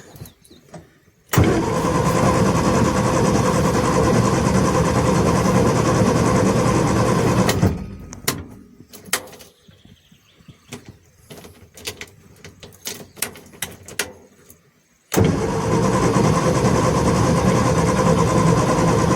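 A small abandoned classic car's engine cranks loudly and steadily after brake cleaner and a little choke, running on for several seconds without catching, then stopping for clicks and quieter rattles before the cranking starts again.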